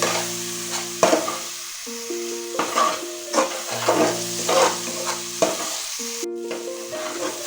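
Chopped green chillies and spices for mutton ghugni frying in oil while being stirred, with a constant sizzle, rhythmic spatula scrapes, and steady tonal hums underneath, close up with no speech.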